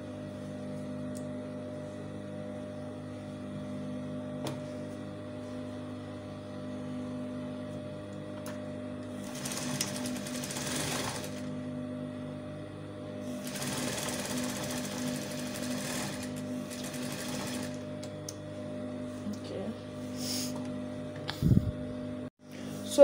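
A sewing machine stitches tulle layers for a baby ball gown dress in two sustained bursts of rapid mechanical whirring, with a steady electrical hum and quiet pauses around them.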